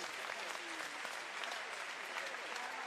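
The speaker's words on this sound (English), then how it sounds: "please, a massive round of applause for both fighters" An audience at a Muay Thai fight night in Torino, Italy applauds the fighters with dense, steady clapping that fills the room throughout, heard at a moderate distance.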